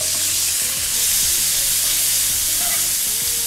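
Onions tipped into a wok of frying anchovies set off a loud, steady sizzle with stirring scrapes, a continuous close crackle with no voices.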